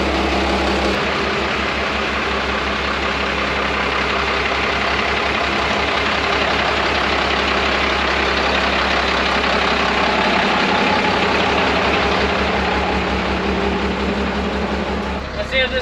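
A truck engine idling after a transmission repair, a steady close low drone with a faint knocking rhythm that runs without pause, while someone talks over it.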